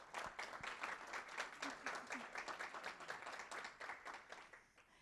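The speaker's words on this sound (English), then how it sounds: "let's give these students one more round of applause" An audience at a high school career signing day claps for the students, a fairly dense round of applause from a crowd, quiet overall and tapering slightly toward the end.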